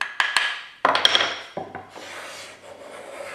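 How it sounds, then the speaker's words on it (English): A hand plane shaving black willow wood, giving several close, rough rasping strokes with short pauses between them and no talk. "to planing, all right, and you're planing along"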